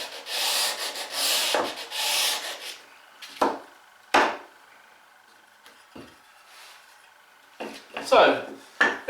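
Sandpaper wrapped on a block rubs across wooden workpieces for a stool, with long scratchy strokes at first, then shorter separate swipes and knocks, close and fairly loud.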